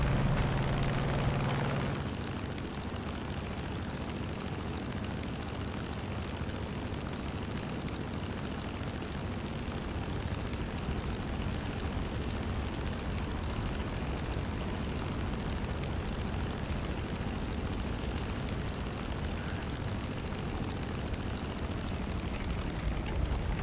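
An aircraft touches down in the War Thunder combat flight game, a steady, loud engine roar filling the whole stretch without a break and with no talking.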